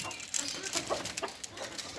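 Native desi chickens on a farm cluck in short, irregular bursts close by, with soft scratchy background noise between the calls.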